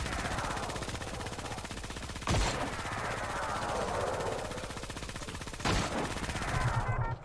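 Rapid automatic gunfire in the shooter game Creative Destruction rattles continuously in dense, fast bursts, with two sharper, louder blasts standing out partway through; no one speaks during it.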